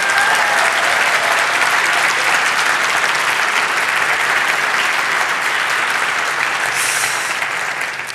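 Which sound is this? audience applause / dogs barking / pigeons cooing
audience applause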